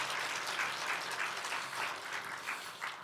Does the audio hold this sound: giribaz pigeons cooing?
no